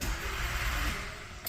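A 2015 VW Golf with a sensor reference voltage circuit fault cranks steadily without catching, a continuous close starter-motor churn lasting the whole moment before a brief click at the end.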